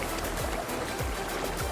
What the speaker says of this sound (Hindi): नदी दोबारा जिंदा हो गई और साफ चमकता हुआ पानी बहने लगा